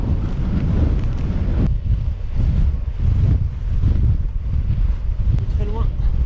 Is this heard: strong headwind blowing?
yes